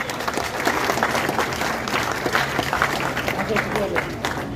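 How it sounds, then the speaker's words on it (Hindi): Loud, dense applause fills a hall at a community welfare association meeting, steady and sustained throughout, with a faint murmur of voices beneath the clapping. "जोरदार तालियां बजाएंगे"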